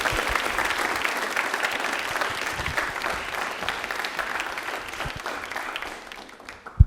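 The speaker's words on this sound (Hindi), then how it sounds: "तालियां इनके लिए एक बार जोरदार वाली बजा दीजिए" A studio audience at a Rajasthani general knowledge quiz show claps heartily and steadily for a contestant, a dense wash of applause that tapers off near the end.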